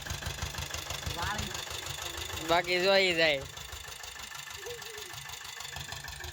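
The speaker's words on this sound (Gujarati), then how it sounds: "ભાઈ નાનો છે પણ ટ્રેક્ટર હોત હાકે" A small Sanedo tractor engine idles nearby with a steady, low, knocking chug throughout, while a person speaks briefly over it midway.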